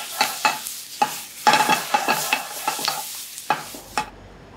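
Lomo saltado stir-fried over high heat, a close run of rhythmic clattering tosses and scrapes over an intense sizzle, each stroke sharp and distinct, ending abruptly.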